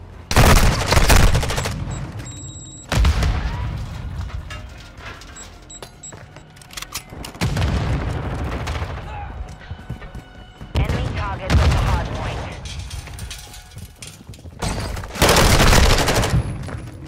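Bursts of automatic gunfire in Call of Duty Modern Warfare 2 ranked multiplayer erupt loud and close, several rapid volleys separated by short pauses, with game announcer voice lines in between.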